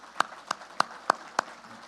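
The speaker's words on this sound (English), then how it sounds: "Please give a round of applause to the OHHA staff." A few people clapping for staff at a harness racing association's annual banquet: five sharp, evenly spaced claps, slow and sparse rather than a full crowd.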